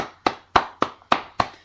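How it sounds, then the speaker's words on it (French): Five distinct hand claps at a steady, slightly uneven pace, close and fairly loud, with short gaps between them and no other sound; a single person applauding a podcast audience. "donc on peut vous applaudir"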